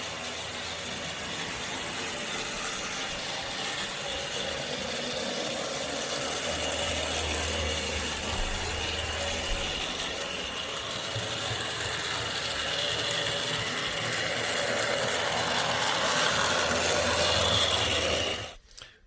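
An OO gauge Hornby model locomotive runs on a layout with a steady, whirring mechanical hum and faint clicking that holds at a constant level for most of the span before stopping abruptly.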